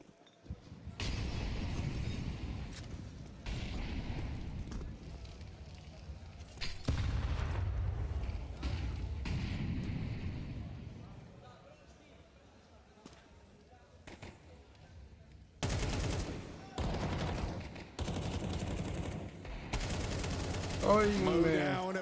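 Bursts of gunfire in a Counter-Strike match between NAVI and G2 at IEM Cologne, sharp volleys and rifle spray separated by short quiet gaps, with commentators talking over the shots.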